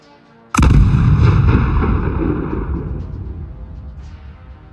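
Russian artillery piece firing a high-caliber round: one sudden heavy boom, close and loud, rolling into a long rumbling decay with faint echoes trailing off.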